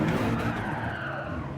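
Race car spinning out with tires skidding in Gran Turismo 7, a GR3 car with traction control off, loud continuous engine roar and tire scrub for the whole moment with no talk.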